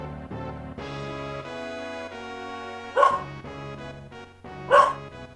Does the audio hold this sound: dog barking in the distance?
yes